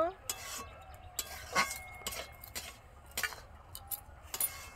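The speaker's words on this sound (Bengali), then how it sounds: "ভালো করে নাড়িয়ে নেব।" Chopped banana stem and half-boiled lentils with turmeric and chili powder are stirred in a pan, giving quiet, irregular scraping and clinking taps of a utensil against the pan, close up and without speech.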